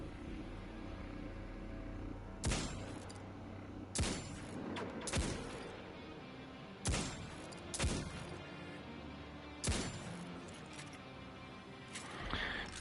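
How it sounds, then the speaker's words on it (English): Hand cannon shots ring out in the video game Destiny 2, about eight sharp separate cracks spaced a second or two apart over a quiet background hum. "Told you it was a good hand cannon."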